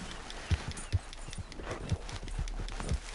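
In Red Dead Redemption Online, a horse's hooves thud in a dull, uneven trotting rhythm over soft ground, moderately close, with a faint background hum.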